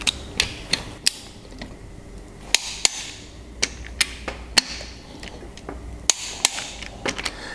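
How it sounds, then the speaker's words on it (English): Torque wrench tightening the crankshaft main bearing bolts on an Evinrude 150 outboard engine, a series of sharp, close metallic clicks and ratchet ticks at irregular intervals in a quiet workshop. "so these main bearing bolts we're going to torque up to 45 Newton meters"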